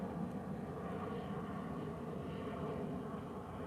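An airplane flies overhead outdoors by the water, giving a faint, distant, continuous engine roar with no voices.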